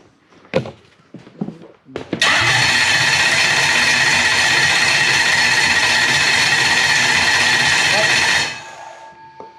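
A car engine fitted with a newly wired Link Monsoon ECU cranks after a few clicks and knocks, catches and runs loudly at a steady idle for about six seconds, then cuts off abruptly.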